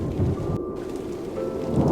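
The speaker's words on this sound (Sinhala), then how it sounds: "ඊට පස්සේ මහ වැස්සක් ඇදහැළුණා." Heavy cartoon rainfall pours steadily, with a deep thunder rumble rolling underneath, loud and close throughout with no voices.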